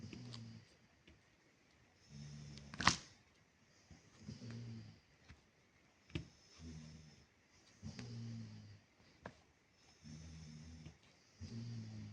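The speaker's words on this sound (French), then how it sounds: "On entend le chien qui ronfle très fort." A dog snores loudly in a steady rhythm, a deep rumbling snore roughly every two seconds, with a sharp snort partway through.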